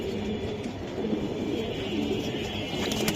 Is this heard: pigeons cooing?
yes